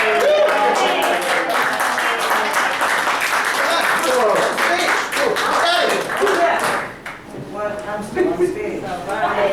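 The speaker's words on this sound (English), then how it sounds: "Give them a round of applause, ladies and gentlemen." An outdoor crowd in Times Square claps and cheers for street performers, loud applause mixed with voices and chatter that fades toward the end.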